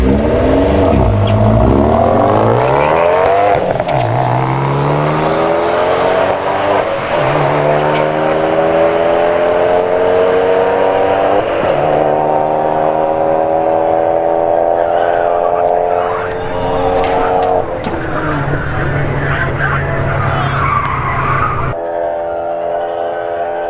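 Turbocharged Abarth 124 launching down a quarter-mile drag strip, its engine roaring loudly up through successive gears with rising, falling pitch sweeps and a gear change, close and sustained, ending abruptly.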